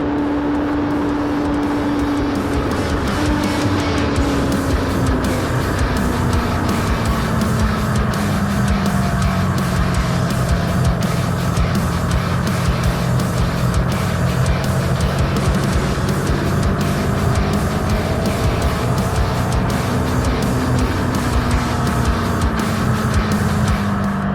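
A Harley-Davidson Nightster S and a Suzuki GSX-S1000 accelerate together, engines droning loud and continuous with rising and falling pitch as the revs climb, wind rush over everything.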